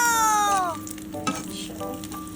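Eggplant frying in plenty of oil in a non-stick frying pan, a steady close sizzle that carries on alone throughout, with a brief tonal sweep at the start.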